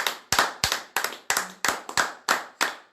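A church congregation clapping in unison, about ten crisp, evenly spaced claps in steady rhythm, close and clear with no talking.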